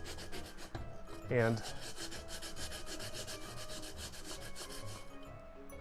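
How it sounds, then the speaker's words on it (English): A clay planter pot being rubbed with sandpaper, giving a steady dry rasping scrape that runs close and fairly even throughout, with a brief louder scuff near the start and a single short spoken word. "I'm not entirely sure how well the sanding will work on it"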